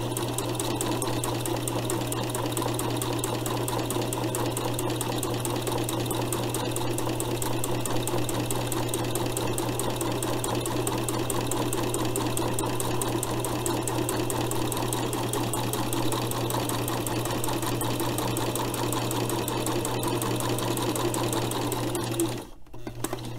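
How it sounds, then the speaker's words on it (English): A sewing machine stitches steadily along the raw edges of a garment, a close, continuous rapid needle chatter over a low motor hum that runs unbroken and stops abruptly near the end. "I'm going to sew just right along the edge, just to keep my fabrics together, my raw edges together"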